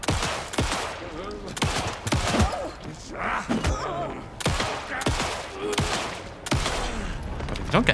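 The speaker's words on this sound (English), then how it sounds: "That was a lot of bullets." Heavy, repeated bursts of gunshots ring out in Alan Wake 2, several loud volleys with booming tails spaced across the moment, with a voice speaking between them.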